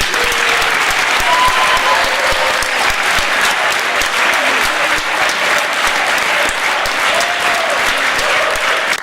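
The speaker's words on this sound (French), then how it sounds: "Merci d'applaudir chaleureusement Jean Roquet" Loud, dense applause from an audience at a public town meeting, sustained and steady for the whole stretch, with faint voices mixed underneath.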